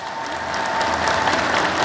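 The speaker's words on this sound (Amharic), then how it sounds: "እግዚአብሔር ሆይ ናልን የምትሉ በደንብ አጨብጭቡ።" A church congregation at a sermon claps together, a thick, even wash of many hands clapping at steady volume throughout.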